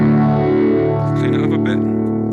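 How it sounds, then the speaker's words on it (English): Electric guitar through a BOSS GT processor modelling a Fender Twin combo with a phaser effect, sustained distorted chords sweeping with a swirling, shifting tone, loud and close. "which we're just using a phaser."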